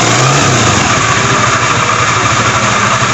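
A Honda Beat FI scooter engine idles steadily at low revs, a close, loud, continuous putter with an even rhythm and no voices over it.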